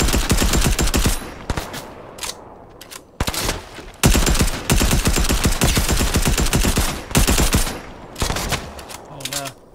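Rapid SMG bursts in a video game, repeated loud volleys with short pauses between them, filling most of the stretch up close.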